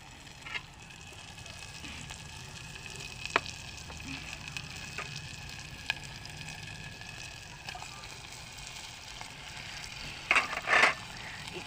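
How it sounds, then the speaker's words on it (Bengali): Chicken fries in spice masala for biryani, a soft, steady sizzle running throughout, punctuated by occasional spoon taps and a brief louder scrape near the end. "এটা দিয়ে এখন আমি চিকেনটাকে একটু কষাবো।"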